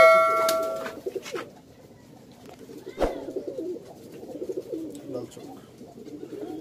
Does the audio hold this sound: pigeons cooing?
yes